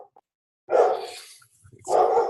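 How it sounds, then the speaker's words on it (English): Dogs bark loudly nearby over a home call, with two sharp barks separated by a short pause and a faint yip at the start. "Now the dogs are barking."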